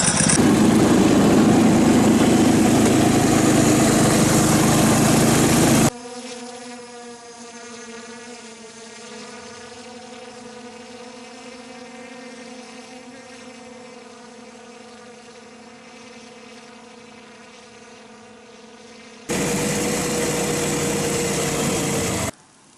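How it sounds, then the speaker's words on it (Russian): A vehicle engine drives along a snowy forest road in December, a steady loud drone at the start and end with a quieter, even humming stretch in the middle, no voices. "Еду по лесной дороге."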